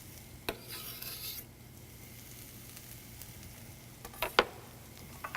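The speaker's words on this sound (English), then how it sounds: "All right, let's give this a good stir." Cilantro is stirred through a sizzling pan, a low crackle under rasping scrapes of the utensil, with a few sharp clinks of metal near the end, close and fairly quiet.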